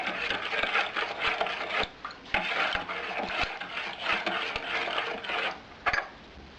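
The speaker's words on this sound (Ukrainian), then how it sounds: "Цукор висипаю. розмішую." A utensil scrapes and clinks rhythmically against a bowl as sugar is stirred into thick muffin batter, steady and close.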